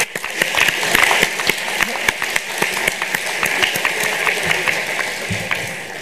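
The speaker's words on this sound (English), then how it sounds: "we can applaud him" Audience applause at the opening plenary session of a sociology forum, a dense, steady patter of many hands clapping throughout, fairly close and loud.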